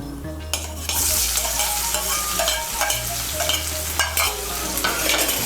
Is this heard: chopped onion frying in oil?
yes